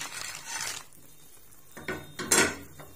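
Gram-flour fritters (phulkiyan) go into yogurt in a pot, heard as a few close clinks and scrapes of a spoon against metal, with soft rustling between the sharper knocks.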